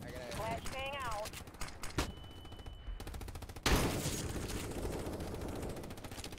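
Rapid suppressing gunfire in a video game, bursts of repeated cracking shots with a brief lull, mixed with shouted voices.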